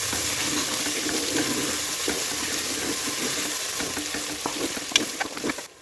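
Tomato masala for chicken biryani sizzles in a pot while a spoon stirs it, giving a steady wet frying hiss with scraping and clinking near the end, and no voices.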